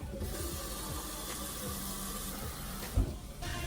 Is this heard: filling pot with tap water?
yes